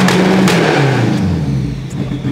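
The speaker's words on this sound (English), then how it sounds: "The two-step on the anti-lag on this thing is a little rowdy." Mitsubishi Evo 8 engine held on a two-step anti-lag launch limiter, a loud, rough idle-to-rev burble with low rumbling harmonics that sag and dip, close up, with no distinct pops standing out.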